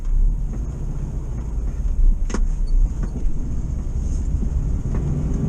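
A VW T2 camper van with a fuel starvation fault idles steadily nearby, a low continuous engine rumble with a few faint clicks and knocks on top, no voices.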